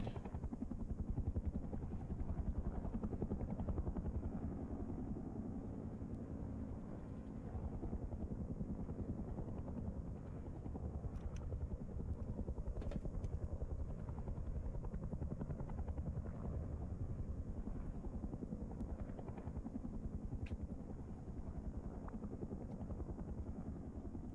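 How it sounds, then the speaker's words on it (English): Helicopter in a video game, a continuous low rotor thumping and engine drone holding steady at a moderate, fairly faint level with no voices. "The troll heli is still being annoying."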